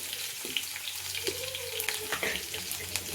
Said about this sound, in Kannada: ಒಂದು ಕಡ್ಡಿಯಷ್ಟು ಬೆಳ್ಳುಳ್ಳಿನ ಜಜ್ಜಿಟ್ಕೊಂಡು ಒಂದು ಸಿಪ್ಪಿ ತೆಗೆದು ಅದನ್ನು ಹಾಕ್ಕೋತೀನಿ ಒಗ್ಗರಣೆಗೆ